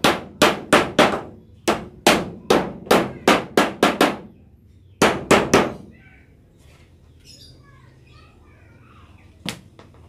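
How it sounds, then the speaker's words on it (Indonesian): Nails being hammered into a wooden umbrella pole of 2 by 3 cm timber for a cart umbrella: a loud, rapid series of sharp hammer blows in two bursts, then quieter rustling and one final strike. "Pertama kita paku untuk tiang payungnya"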